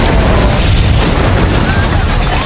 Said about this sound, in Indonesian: dan Arthur pun langsung kabur berlari sambil menembak tabung gas yang membuat ledakan besar dan Biggie pun hancur.